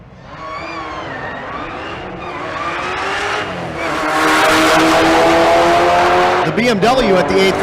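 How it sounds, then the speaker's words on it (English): A supercharged LS-swapped BMW drag racing down the strip at Bandimere during a race week event: a loud, sustained engine roar climbs in pitch and intensity, with tire noise and commentators talking over it. "So Richardson, the BMW, that the license plate says BMW-ish, because it's got a supercharged LS."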